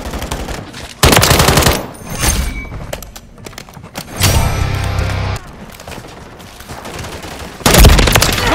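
Automatic gunfire in Call of Duty: Modern Warfare rattles out in loud sustained bursts, with short gaps and quieter distant shots between them and a heavy boom near the end.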